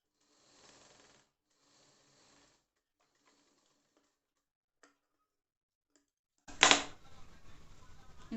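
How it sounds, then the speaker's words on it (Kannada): A sewing machine stitches a blouse tie, with a few faint short runs of whirring and ticking separated by near silence, then a sudden louder burst of mechanical clatter near the end. "ಇನ್ನೊಂದು ಹೊಲಿಗೆನ ಇದ್ರ ಮೇಲೆ ಹಾಕಿಬಿಟ್ಟು"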